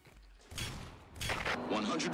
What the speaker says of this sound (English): 150 millimeters of cannon.